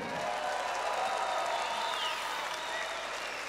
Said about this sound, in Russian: Думаю, что оба бойца заслужили ваши аплодисменты.